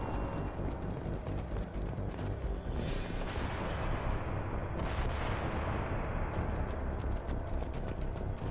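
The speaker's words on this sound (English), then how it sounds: "I hear gunshots." Dense, continuous rattling gunfire and crackling bursts from the video game Mass Effect 2 fill the whole stretch, loud and busy, with no voices over it.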